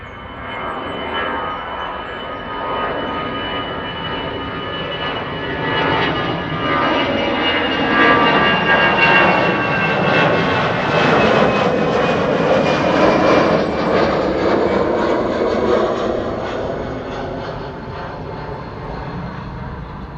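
A KLM jet airliner departing Amsterdam Schiphol Airport, its engine roar swelling to a loud peak mid-clip then gradually fading as it climbs away, with no voices.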